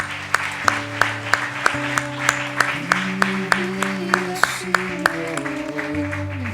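A church congregation applauds during a worship service, rhythmic group clapping in a steady beat over sustained keyboard chords and a faint background voice.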